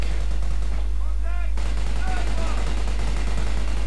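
Rapid gunfire from MP44 assault rifles wielded by Panzer Grenadiers in heavy cover in Company of Heroes, crackling steadily throughout under a continuous battle din, with a few brief whistling tones midway.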